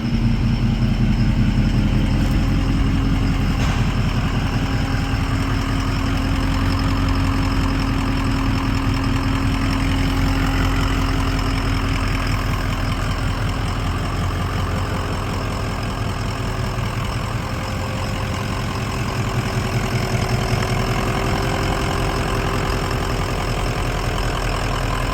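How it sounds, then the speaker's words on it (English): A Ford 6.0 Powerstroke diesel pickup truck idles steadily for the whole stretch, a continuous low rumble with a light rhythmic knock, close by and alone without talk. "But the truck is running, just in case you forgot."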